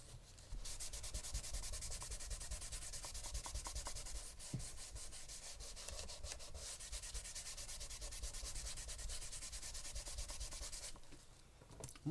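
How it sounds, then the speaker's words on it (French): Paper card being rubbed in a crafting session, a steady close scratchy rasp that continues for about ten seconds before trailing off, with no talk. "Moi, je frotte, hein."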